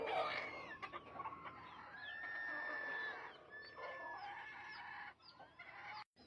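Chickens from a backyard flock clucking and chattering continuously at close range, with scattered higher calls and squawks over steady bird activity, no talking.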